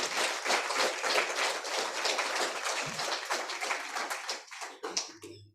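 An audience at a mental health charity's annual general meeting applauds, a dense, steady patter of many hands clapping from a moderate distance that thins out toward the end.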